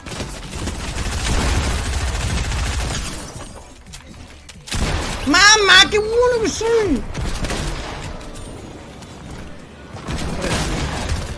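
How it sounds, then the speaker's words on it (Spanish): Rapid gunfire in a Fortnite squad match, bursts of shots crackling early and again near the end, with excited players shouting and talking loudly in the middle. "Todos son tiros, todos son tiros, todos son tiros."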